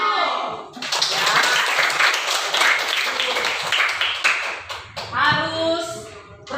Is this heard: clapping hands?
yes